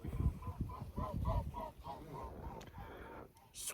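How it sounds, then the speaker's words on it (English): A swan on the Norfolk Broads gives a run of about eight evenly spaced honking calls, moderately close, over wind and outdoor rumble. "Swan."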